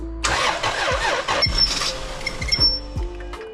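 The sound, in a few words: car engine starting up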